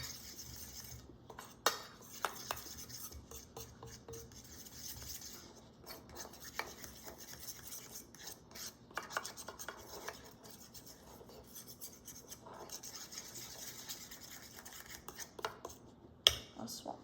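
Quiet scraping and clinking of a spoon stirring powdered sugar and milk into icing in a bowl, irregular strokes with occasional sharper taps against the dish, close and soft, with no talking.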